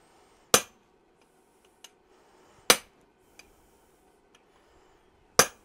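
A short chisel is hammered into cold metal while a horse head bottle opener is being forged, giving three sharp, ringing strikes with a few faint lighter taps between them in a quiet shop.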